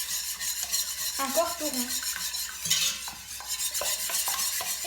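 A spoon stirs a mixture of eggs and chocolate in a bowl, producing close, repeated scraping and clinking strokes in an uneven rhythm, with a brief spoken phrase in the middle.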